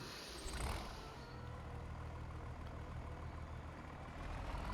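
A big new tractor engine in a farming video game runs as a steady low diesel drone that stays even for several seconds, faint and continuous, with no talking over it.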